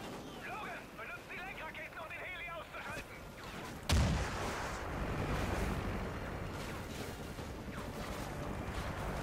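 A voice talks, then a single heavy gunshot blasts in the video game Call of Duty: Ghosts, followed by a continuous roaring rumble.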